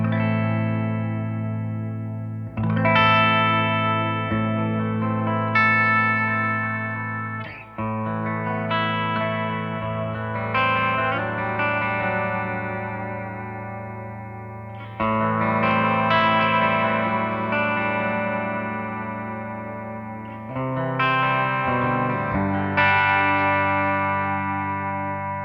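Mayones Aquila Elite S electric guitar on its high-output bridge humbucker, played clean with reverb and delay: ringing chords and notes in several phrases, each left to sustain and echo, with no talking.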